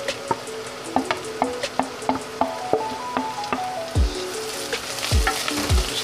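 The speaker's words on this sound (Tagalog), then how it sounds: "Stir lang natin yung onion," Onion, garlic and ginger stirred and fried in a pan for pork with tofu in oyster sauce: a steady close sizzle broken by regular scraping clicks of the spatula, with a few low thumps near the end.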